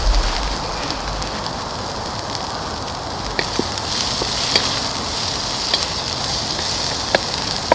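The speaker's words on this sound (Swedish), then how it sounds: "Fräser vi på det här." Carrots, garlic and chili sizzle steadily as they are stir-fried in a wok for chow mein, a close, continuous crackling hiss with small pops scattered through it and no talk.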